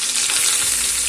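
Chopped onion pieces frying in hot oil in a pan, a loud, dense, steady sizzle with crackling spatter, close up and with no talk.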